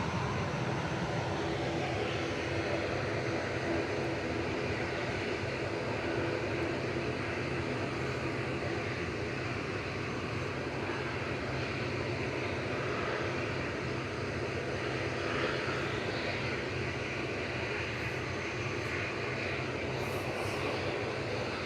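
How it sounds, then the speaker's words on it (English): Ryanair Boeing 737-800 jet departing Manchester Airport for Dublin, a dense sustained engine roar at steady, fairly loud level with faint tonal whine throughout. "Next to go is Ryanair to Dublin as well. 737-800 EIGSJ with flight"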